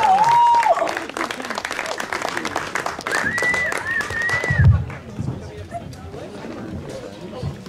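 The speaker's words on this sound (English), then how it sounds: "Please welcome them with a big warm of applause." Festival crowd applause welcoming performers at Salt Shaker Festival, Manitou Beach, Saskatchewan, with many hands clapping and cheers and shouted voices over it, fading out after about five seconds into quieter background chatter.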